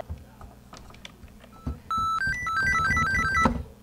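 A synthesized three-note arpeggio plays in SunVox from a computer keyboard, the notes cycling rapidly in a bright, electronic pattern after a few soft key clicks.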